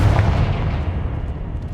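A fire spell explodes in the Hogwarts Legacy video game, a loud, close, deep boom that rolls and fades over under two seconds with no voices.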